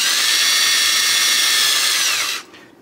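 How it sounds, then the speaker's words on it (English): A power drill runs at a high, steady whine while boring a hole during a DCHDMI install, loud and close, then winds down abruptly near the end. "We're just going to drill 3 consecutive holes."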